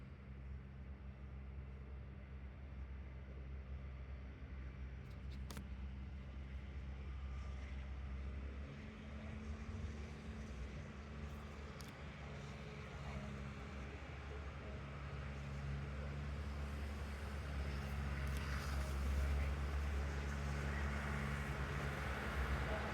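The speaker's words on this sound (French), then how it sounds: "C'est l'heure du passage du tracteur dans le village." A tractor passes through a village as a steady, low engine rumble that swells slightly as it nears, heard alone with faint outdoor ambience and no talk.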